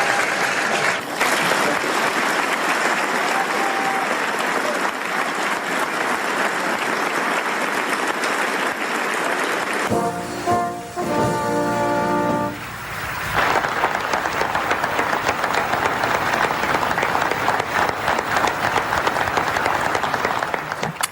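Sustained audience applause for US presidents at the White House Correspondents' Dinner, a dense roar of clapping filling the room, with a brief lull midway where a voice speaks before the applause swells again.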